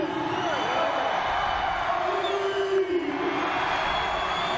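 A crowd at the final of the Copa del Rey handball cup between Bathco BM Torrelavega and Barça cheers and roars in a steady mass of noise, moderately distant, with no clear breaks.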